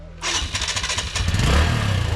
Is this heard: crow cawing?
no